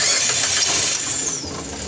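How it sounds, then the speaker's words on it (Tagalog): A Mitsubishi Xpander engine cranks and fires up in a workshop with a throttle-body check-engine issue, giving a loud, steady mechanical roar with a high whine throughout the short stretch, no voices over it. "napa-start na ni customer itong makina"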